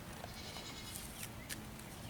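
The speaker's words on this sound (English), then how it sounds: "This is my pet goat." A pet goat gives a few short, faint bleats, the clearest near the end, over a steady background hiss with no talking.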